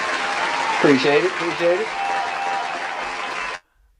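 An audience applauds at a podcast recording, a steady wash of clapping running for about three and a half seconds before it cuts off, with someone speaking briefly over it.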